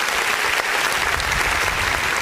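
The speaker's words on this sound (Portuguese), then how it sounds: "Vamos aplaudir o nome do Senhor Jesus" A church congregation applauds during a worship service, a full, even burst of clapping filling the hall for a couple of seconds without voices.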